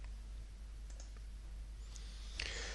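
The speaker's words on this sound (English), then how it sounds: "by just using my mouse and clicking on the information that I want to build a rule up for" A computer mouse clicking at a desk while working in accounting software: a few faint, isolated clicks over a steady low electrical hum, with a slightly louder click near the end.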